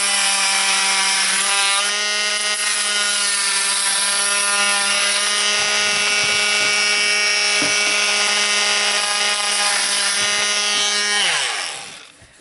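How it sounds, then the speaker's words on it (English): A Dremel rotary tool cuts through a Japanese knotweed stem with a steady, loud, high-pitched whine and buzzing harmonics, held continuously for about eleven seconds before winding down at the end. "I'm going to cut it off right here with my Dremel tool"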